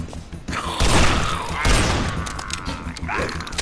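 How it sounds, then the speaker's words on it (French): Rifle gunfire rings out in an old-school shooter video game, a few loud close shots and bursts with echoing tails, with no talk over them. "On va peut-être passer au fusil."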